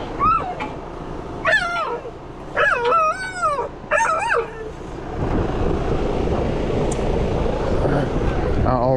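Several puppies bark and yip in short high-pitched bursts during the first half, close by, before giving way to a steady mechanical rumble from an HVAC trailer system.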